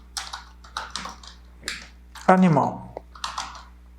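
Computer keyboard typing in short bursts of clicks, close and moderately loud, with someone speaking between and over the keystrokes.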